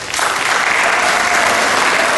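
A large audience claps steadily for the people who were on stage at a Joshua Sandy Institute celebration. The applause is loud, dense and sustained, filling the whole moment with no voices over it.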